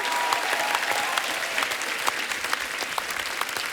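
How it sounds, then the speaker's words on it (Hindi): A live comedy show studio audience breaks into loud, sustained applause for Mumbai dabbawala guests, dense clapping holding steady throughout. "इनके लिए जोरदार तालियां हो जाए"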